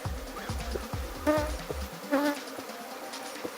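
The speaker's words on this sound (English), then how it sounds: "clean the comb of all the bees" Honeybees are cleared off a honeycomb frame at the hive, a soft, close buzzing swarm with a few sharper passing drones and light knocks beneath.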